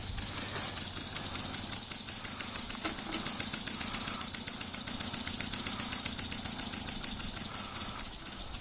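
Small model runner steam engine running at a steady pace, with rapid, even chuffing exhaust beats and a mechanical clatter repeating several times a second, close and constant throughout.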